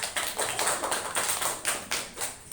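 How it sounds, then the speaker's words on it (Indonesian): Students in a sociology class clap for their classmates in a run of quick, fairly even bursts, close and moderately loud, with no talking. "Boleh tepuk tangan buat teman-temannya."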